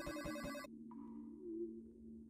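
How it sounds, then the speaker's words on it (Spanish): A telephone ringing in the space platformer Astronite: an electronic ring repeats three times in quick succession and then cuts off, followed by a softer, sustained tone over low game music. "Teléfono."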